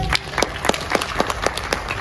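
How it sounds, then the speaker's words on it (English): A room of people clapping together, a steady scattered applause with repeated sharp claps, moderately loud and continuous throughout. "clap for yourself"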